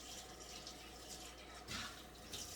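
Tap water running softly at a kitchen sink while a bowl is washed for a taco soup, a faint steady trickle with brief louder splashes near the end.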